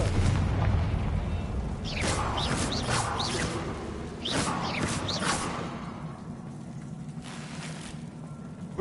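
Confringo fire spell in the video game Hogwarts Legacy: several crackling, whooshing magical blasts burst out in quick succession over a steady rumbling game background.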